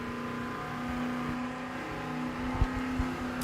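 At a fire drill competition, a fire engine revs up with a steady loud mechanical whir and rising engine tone, ending in a couple of sharp thumps, with no voices.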